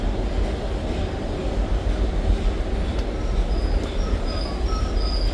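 An M7 commuter train rolls past with a steady, loud roar of rumbling wheels, and thin high squeals from squeaky wheels rise and fall on top during the last few seconds.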